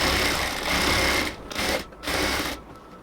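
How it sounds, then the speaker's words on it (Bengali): A sewing machine stitches elastic into a salwar waistband with a loud, close, continuous whirring hum that stops briefly twice before running on again. "ইলাস্টিকটাকে আস্তে আস্তে ধরে ধরে পুরোটা অংশ সেলাই করে নেব"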